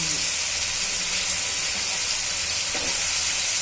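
Capsicum fries in a pan for veg Manchurian, giving a steady, continuous sizzle and hiss with no pause, close and moderately loud, with a brief faint stir near the end.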